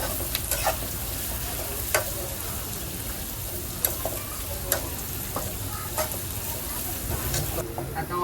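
Onion, cumin and whole spices sizzle in hot oil for Koli-style tuna kheema, a dense continuous frying hiss with sharp spoon scrapes and clinks against the pan scattered throughout.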